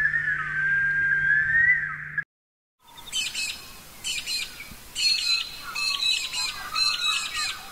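A bush stone-curlew calls with repeated high, wailing whistles and squawks, fairly near, preceded by a steady electronic tone that cuts out into brief silence.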